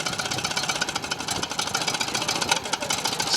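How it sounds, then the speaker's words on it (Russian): A BMW motorcycle engine runs at a motorcycle touring camp, a close, rough, rapid pulsing chatter with clattery mechanical knocking, steady and fairly loud throughout. "Сколько всяких интересных звуков издает двигатель."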